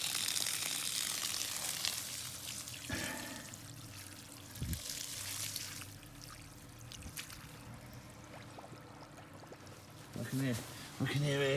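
Water from a well splashes and pours out of a pipe in a continuous rushing flow, heard under a speaking voice, with a few sharper gurgles and knocks.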